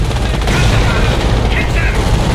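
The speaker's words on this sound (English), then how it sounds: "Preparing mortar barrage." A Company of Heroes battle with a mortar barrage: dense, loud, continuous gunfire and explosions, with a voice partly heard beneath the din.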